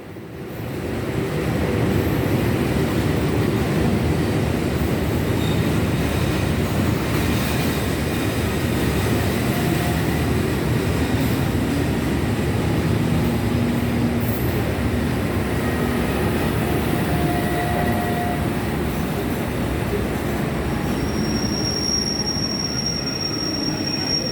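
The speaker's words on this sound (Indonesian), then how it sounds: "Kereta api Ranggajati dari Jember tiba di jalur 5 stasiun Surabaya Gubeng" Ranggajati passenger train from Jember rolling into platform 5 at Surabaya Gubeng station, a loud continuous rumble of wheels on rails with steady squealing and screeching throughout, close by and without talk.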